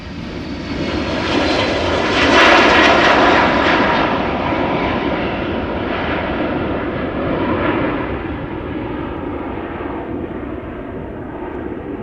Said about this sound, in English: This is KLM flight 947 and Embraer